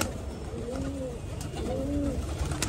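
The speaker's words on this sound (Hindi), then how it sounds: "ये भाई कासनी पटेत कबूतर है भाई, देख लो।" Kasni Patet pigeons cooing, two soft rising-and-falling coos close by under a steady background hiss and faint noise, with no talk.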